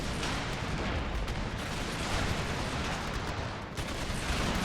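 Massed musket volleys aimed at fortress walls in Empire: Total War, a dense continuous crackle of distant gunfire and rumbling blasts blending into a steady roar.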